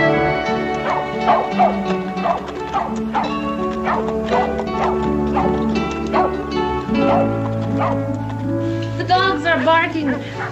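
Dogs bark repeatedly in a dusty Old West ranch setting, the yips rising over steady background music and scattered voices, the barking fairly close and continuing throughout.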